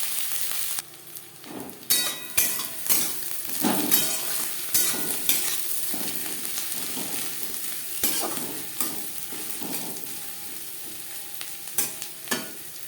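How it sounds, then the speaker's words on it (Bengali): Chopped onions frying in a pan for a Bengali note shak bhaja, crackling sizzle under repeated close scraping and stirring strokes of a spatula, steady and unaccompanied by speech. "পেঁয়াজ লালচে করে ভেজে নেব।"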